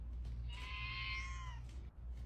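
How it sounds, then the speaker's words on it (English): A cat meows once in a long, drawn-out, fairly loud call over a steady low background hum, with no talking. "Those are great meows."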